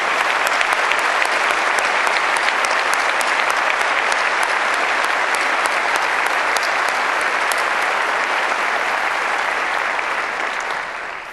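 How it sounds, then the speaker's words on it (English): A large graduation-ceremony audience giving a long, even round of applause, thick continuous clapping filling the hall for about eleven seconds before easing off slightly at the end. "join me in showing our appreciation for what Mr. Jeans has done for this university, please, with a big round of applause"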